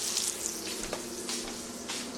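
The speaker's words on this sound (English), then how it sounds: "I got my chicken browning in the skillet" Chicken browns in a skillet with a steady, close sizzle and crackle of frying that runs unbroken for the whole short stretch, with no talking.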